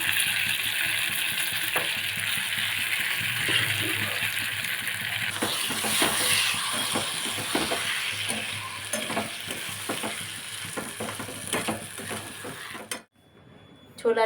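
Boiled chana dal sizzles in a hot pan while a spoon scrapes and stirs it repeatedly, clattering strokes over a continuous frying hiss, stopping near the end.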